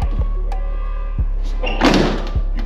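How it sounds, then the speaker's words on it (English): A few soft clicks and a brief rattling thump as the door lock of a GM G-body Cutlass is pushed down, close up, over a constant low idling hum. "You got to push down to lock it."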